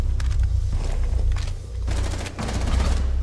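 Bursts of rapid fuse gun fire in a Rainbow Six Siege team deathmatch, loud close volleys that come in a few clustered strings with short gaps between them.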